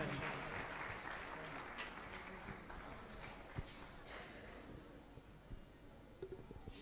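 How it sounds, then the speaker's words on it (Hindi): Faint, scattered applause from a theatre audience welcoming a guest, soft and distant, with a few louder claps standing out and voices murmuring underneath. "तालियों की करतल ध्वनि के साथ स्वागत हो"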